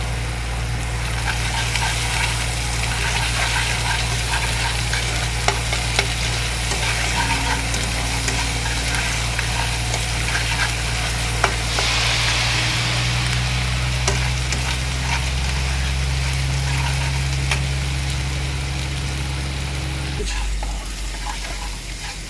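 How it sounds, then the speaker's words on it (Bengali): Garlic frying in hot oil in a home kitchen pan, turning reddish, gives a steady, continuous sizzle with a low hum behind it and no talk, dropping slightly near the end. "এবার আমার রসুনটাও না ভাজা ভাজা হয়ে এসছে, লালচে লালচে হয়ে গেছে"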